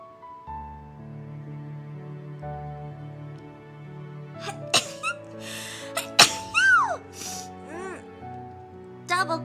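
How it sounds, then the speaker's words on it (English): A single sneeze bursts out sharply over steady background music, followed by a few short gasping breaths and brief vocal sounds close to the microphone. "Yo, I'm gonna sneeze."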